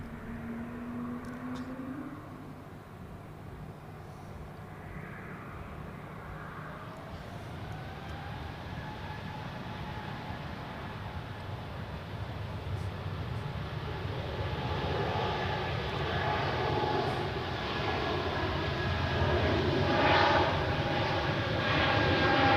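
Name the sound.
Embraer 190 E2 jet departing from runway at Zurich Airport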